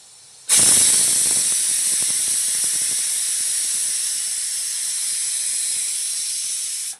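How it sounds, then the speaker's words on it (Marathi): Scissors cut through blouse fabric laid folded inside-out, a steady bright hissing rasp running close and loud for several seconds with faint ticking snips underneath, no voices. "आता मेन फॅब्रिकवरती कट करते मी"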